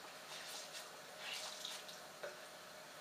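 Water splashing and trickling as a soaked Konjac sponge rinses cleansing gel off a face, a soft, continuous wash close by with faint wet dabbing, no talking.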